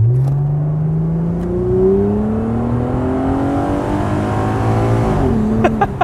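A 1999 Plymouth Prowler revs and accelerates hard under launch control with an auto-stick transmission, its engine note climbing steadily in pitch. Near the end it shifts with a sudden drop and then resumes. The engine is loud and close throughout, with no talking.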